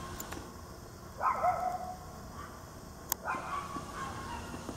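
Dogs bark faintly in the distance, two short bursts of yapping over quiet outdoor background noise.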